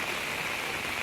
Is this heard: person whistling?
no